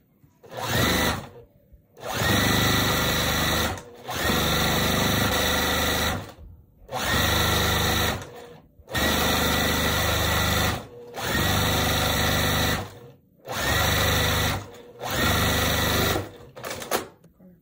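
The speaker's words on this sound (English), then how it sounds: "Sew my piece on." Sewing machine stitching quilt block pieces for a barn star sampler quilt, running in seven or eight loud bursts of about two seconds each, separated by short pauses, with no talking.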